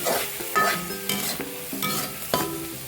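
Masala for a quail egg roast stirred in a frying pan, with repeated scrapes of the spoon over a steady sizzle, close up and with no voices.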